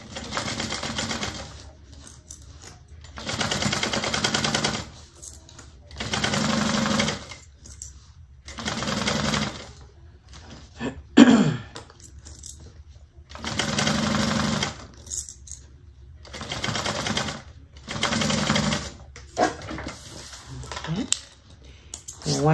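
A sewing machine stitches a Joseph Bag seam in repeated bursts of a few seconds each, separated by short pauses and a brief handling clatter, close and moderately loud with no talk over it.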